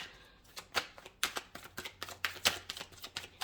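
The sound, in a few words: drawing a tarot card from the deck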